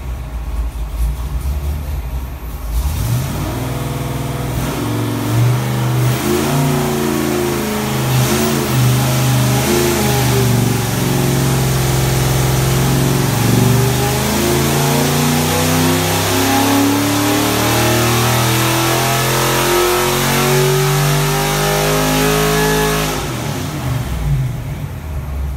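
Ford 331 engine revving hard on a dyno after an intake swap, a loud, steady high-load roar with rising harmonics that climbs through the pull and cuts off sharply near the end.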